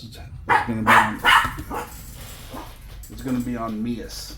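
Dogs bark a few times in the background, fairly faint, while someone talks close to the microphone about RC crawler parts.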